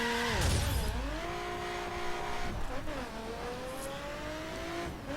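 A McLaren F1 car engine in The Crew revving and shifting through gears, rising pitch sweeps under steady acceleration, close and loud.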